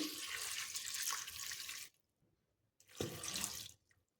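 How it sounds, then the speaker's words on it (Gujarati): About one and a half glasses of water poured into a pressure cooker holding vegetables for pav bhaji, two close splashing pours separated by a brief pause. "હવે આપણે અહીંયા દોઢ ગ્લાસ જેટલું પાણી ઉમેરી લઈશું"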